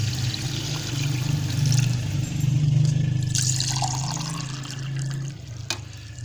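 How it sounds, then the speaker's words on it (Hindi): Water is poured into a cooking pot for matar pulao, a steady close gushing pour that softens toward the end, with no talking. "अब इसमें हम अपना पानी ऐड करेंगे।"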